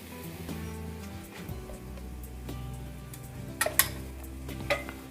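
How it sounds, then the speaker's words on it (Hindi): Potatoes, onions, green chillies and chilli flakes with spices get stirred in a pan for aloo palak, giving a soft steady sizzle under a few sharp clinks and scrapes of a spoon against the metal near the end. "और इसे मसालों के साथ आलू और प्याज को अच्छे से मिक्स कर देंगे हम।"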